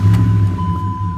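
A recovered stolen pickup truck with a Cummins diesel and manual transmission cranks and starts, settling into a steady, low, loud idle close by with a faint tone above it.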